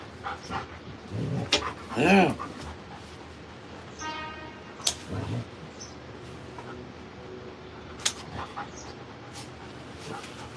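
A dog resisting a nail trim gives a whimpering, whining cry, then pants and scrabbles, with brief sharp noises and a person talking during the struggle.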